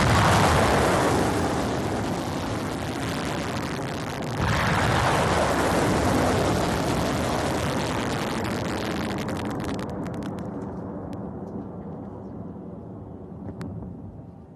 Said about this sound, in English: Next is the Akash surface-to-air missile demonstrating its firing capabilities.